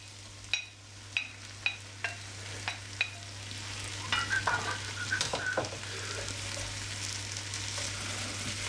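Mushrooms go into a hot pan of frying sausages for a sausage casserole: a few sharp utensil taps first, then bursts of sizzling and stirring clatter settling into a steady frying hiss.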